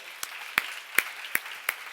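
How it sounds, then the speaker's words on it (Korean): A church congregation claps during a sermon, though only about five sharp, evenly spaced claps ring out over a quiet room, close and distinct. "박수로 하나 돌리세요."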